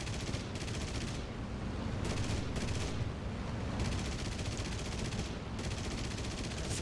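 Aircraft machine guns firing in bursts during a World War II flight game with a Yak-9T, a harsh rattling roar that cuts in and out several times over a constant engine drone.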